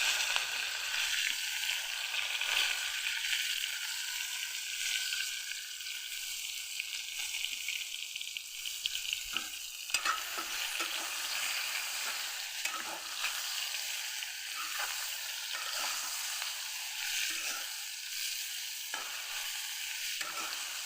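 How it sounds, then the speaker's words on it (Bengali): Eggplant pieces fry in hot oil in a wok for a mustard eggplant dish, giving a constant close hiss of sizzling with occasional soft scrapes and stirring clicks throughout. "হালকা করে বেগুনগুলিকে ভেজে নিলাম।"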